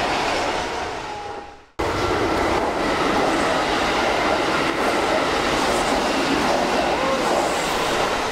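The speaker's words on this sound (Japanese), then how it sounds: "電車来た。" A train pulls into a station in Osaka, Japan, its rolling rumble and wheel clatter rising loudly and close after a sharp cut, then continuing as a steady roar with faint squeals.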